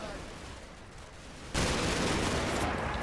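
Gunfire in the video game Combat Mission: Battle for Normandy, a steady crackle of distant small-arms shots that jumps to a louder, denser roar of fire halfway through.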